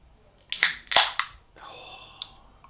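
A can of Oettinger German beer cracked open nearby: a sharp metallic snap and hiss, a second pop, then a steady fizzing pour-like hiss ending in a small click.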